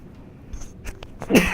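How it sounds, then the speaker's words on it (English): A single close sneeze bursts out at the end, preceded by a couple of faint sharp intakes of breath in a quiet room. "Had to sneeze there."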